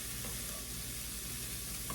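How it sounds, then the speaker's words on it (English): Broccoli fries in a pan with a constant soft sizzle, and occasional faint stirring touches sit under the hiss, with no voices over it. "You're going to let that broccoli cook for about 6 minutes, constantly kind of be stirring it"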